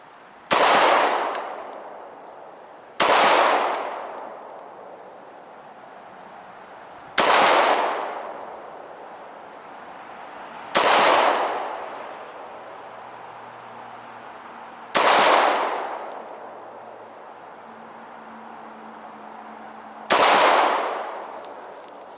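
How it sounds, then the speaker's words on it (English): Six single Walther PPS 9mm pistol shots fired at an outdoor range, each a loud sharp crack with a lingering echo, spaced about three to four seconds apart with no talking. "So now we're going to shoot a white section, so give you guys a chance to see the actual rounds impacting the area out there."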